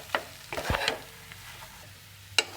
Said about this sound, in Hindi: अब हम इसमें ये मटर मिक्स कर देंगे और ये ऊपर से कसूरी मेथी भी डालने के बाद हम इसे अच्छी तरीके से मिक्स कर लेंगे